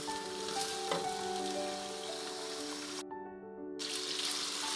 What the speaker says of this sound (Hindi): काफ़ी हद तक हमारा गोश्त फ्राई हो चुका है